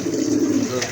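A pair of black-and-white pigeons gives a brief, close, soft low coo lasting under a second.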